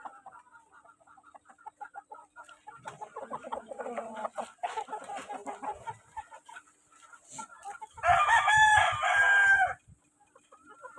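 A gamecock broodstag rooster at a game farm crows loudly and close once, a strong harmonic call lasting about two seconds near the end, after a stretch of softer clucking and faint farm noise.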